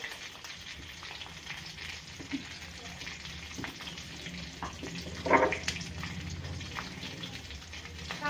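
Bell pepper (capsicum) frying in oil, a continuous bubbling sizzle close up with a brief louder burst of spatter midway.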